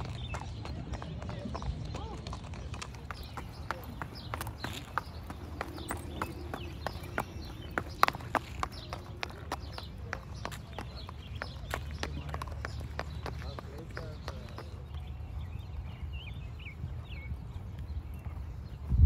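Hooves clip-clop in a steady jogging rhythm, somewhat distant, with faint voices and background noise underneath.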